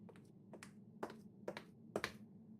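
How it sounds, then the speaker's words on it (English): A series of sharp, quiet claps at a door in the video game Persona 4 Dancing, about four or five in an uneven rhythm, close by with a faint hum beneath. "we hear a clap from the door"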